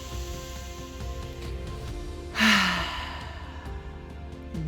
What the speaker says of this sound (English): give me another deep breath in. Exhale.